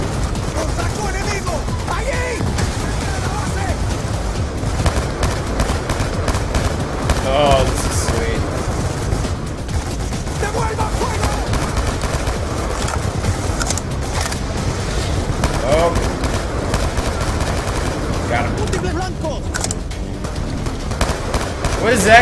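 Dense, continuous gunfire and bursts of combat noise from a Black Ops 2 campaign battle in a descending elevator, loud and sustained throughout, with voices talking over it.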